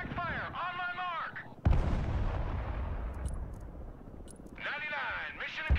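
Heavy artillery fire in the real-time strategy game Broken Arrow: a booming roar erupts suddenly and rumbles on for several seconds under a steady music bed, with sharp distant cracks flickering through it.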